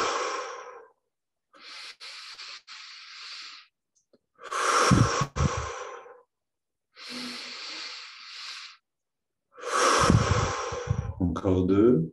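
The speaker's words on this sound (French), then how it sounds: "Remplissons un peu plus encore pour les 5 dernières respirations." Deep, slow breaths during a guided meditation, each long inhale and exhale heard close up in separate bursts with short pauses between, ending in a fuller final exhale.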